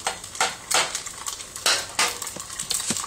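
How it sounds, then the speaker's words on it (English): Fried bacon being stirred while deep frying in hot grease, with bursts of crackling sizzle and utensil scrapes against the pan in an irregular rhythm, close up and without voices. "I'm stirring fried bacon that's in hot grease, deep frying."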